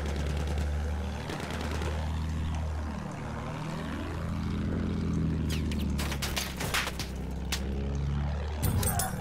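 Propeller enemy plane in the video game Battlefield 1 drones loudly and sweeps past with a rising and falling Doppler pitch, then dense gunfire and explosion bursts crackle over a steady engine hum.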